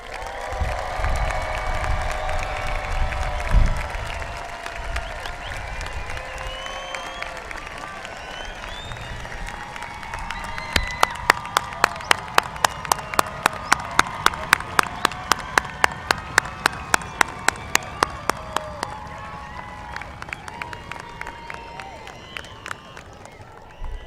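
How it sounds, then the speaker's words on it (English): Sustained crowd applause for graduates at a high school graduation ceremony, steady clapping from a large audience with a few sharp rhythmic claps joining midway, then slowly thinning out. "How about another round of applause for our graduates?"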